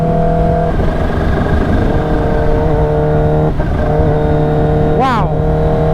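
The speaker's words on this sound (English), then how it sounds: "Brutal power now from this engine" A supercharged Kawasaki Ninja H2 motorcycle engine pulls hard up through the gears, its loud, rising roar broken by quick shift dips, close to the microphone, ending in a sharp high-pitched rev sweep.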